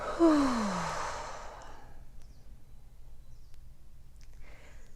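A slow, deep exhale during a guided breathing exercise, a single breath out that starts strong and fades over about two seconds, close and alone, followed by quiet.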